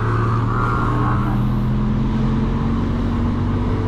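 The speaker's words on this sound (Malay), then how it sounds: "kita tengok banyak betul ya, banyak kereta ni bawah tu" Steady road traffic from cars on the road below at Fraser Hill, a hill resort: a continuous low engine rumble and tyre hiss, loud and unbroken throughout, with no voices.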